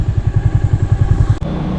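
A motorbike rides along a narrow rural road in Sri Lanka, its engine pulsing steadily and close, with a brief dropout near the end.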